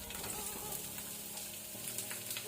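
Onions frying in coconut oil in a pan for a country chicken curry give a steady, close, dense sizzle and crackle that runs throughout without a break, and no one speaks.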